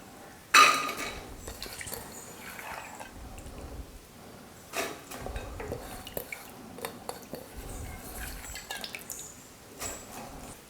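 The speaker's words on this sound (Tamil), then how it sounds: "இப்போ இந்த பருப்புக்கு குக்கரில் சேர்த்துக்கலாம்." Soaked toor dal is tipped into a pressure cooker, giving a few wet clattering knocks against the metal pot with drips and light clinks, loudest at the start and again in spurts midway.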